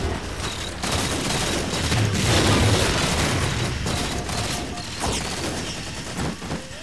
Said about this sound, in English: That was going to show a little bit of the incendiary cannon gameplay here